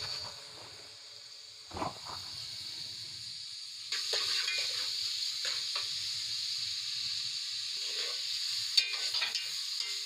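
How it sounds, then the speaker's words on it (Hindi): Onions frying in a pan for an aloo kurma, with a steady soft sizzle throughout, a couple of louder stirring scrapes and knocks, fairly quiet and with no talk. "इसमें प्याज डालेंगे। इस प्याज को हम गोल्डन करेंगे।"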